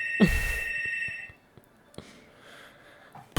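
A landline telephone rings with a loud electronic trill that cuts off after about a second, followed by breathy sounds and faint room noise.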